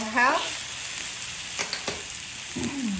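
Spicy tuna pieces sear in a hot pan with a steady hiss and crackling sizzle. Brief voice fragments rise near the start and end.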